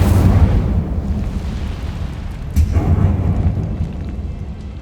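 The Incendio fire spell is cast in the Hogwarts Legacy video game, a loud, rumbling fiery blast that sustains throughout with a second burst partway through.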